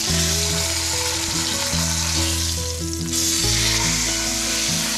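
Pork butt roast searing in a hot pan, a loud, steady sizzle and fry crackle running continuously throughout with no talk.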